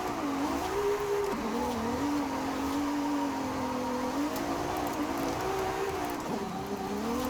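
A Ferrari 296 GTB V6 held in 5th gear in Forza Horizon 5 drones steadily, its engine tone rising and dipping slightly in a continuous sustained note.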